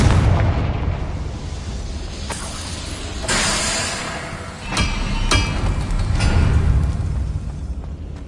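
A Confringo fire spell explodes in Hogwarts Legacy, a loud, close, roaring blast with several sharp bursts and cracks over a dense rumbling wash.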